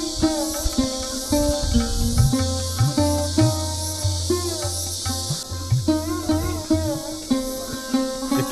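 Crickets chirp at Palamu Fort, a loud nearby chorus of repeated pulsing trills layered with steady high buzzing, continuous and alone without any talk.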